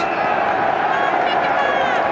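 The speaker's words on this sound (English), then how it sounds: "the crowd gives a huge cheer for Jake Edwards" A large crowd at the 2011 VFL Grand Final between Port Melbourne and Williamstown cheers in a steady, loud roar, with a commentator talking over it.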